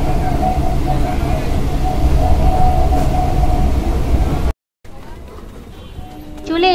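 Passenger train journey toward Naihati in West Bengal, a loud continuous rumble of the moving carriage filling the scene, broken by a short cut before a quieter, thinner stretch of rolling noise.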